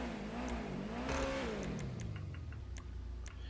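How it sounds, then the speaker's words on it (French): Lamborghini Urus engine in GTA Online, carbon-hooded SUV, revving with a rising then falling pitch sweep under steady engine drone, with light ticking clicks scattered through, moderately loud and continuous. "j'avoue que le bruit du véhicule est vraiment très intéressant"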